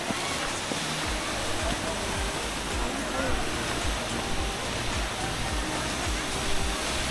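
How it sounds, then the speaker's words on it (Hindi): Waterfall at Mainpat in Chhattisgarh, heard as a constant broadband roar of falling water from some distance, steady and dense throughout. "और मुझे वाटरफॉल का पहला झलक दिख गया है।"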